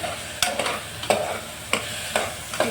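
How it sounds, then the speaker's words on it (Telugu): Chopped onions and green chillies frying in oil for mutton curry, a constant sizzle with sharp spoon strokes against the pan every half second or so, close up with no talking. "కూరకు సరిపడిన అంత ఆయిల్ వేసుకొని ఆయిల్లో ఉల్లిపాయ పచ్చిమిరపకాయ మగ్గే వరకు బాగా వేసుకొని"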